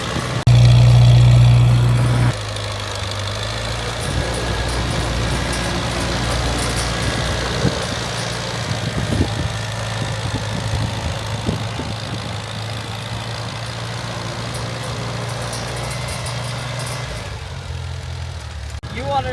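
A restored 1952 Farmall Cub tractor engine idles with a low, steady throb, heavy rumble at the start, while someone talks over it.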